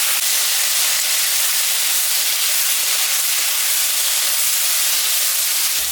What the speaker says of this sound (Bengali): আলু আর বেগুন কাটে নিচ্ছি। এটা আমি এখন ভাজা ভাজা করে নেব।